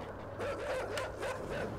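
Emaciated-looking dogs in the video game INSIDE, a few close yelping barks and whimpers in quick succession, fairly faint and without talk.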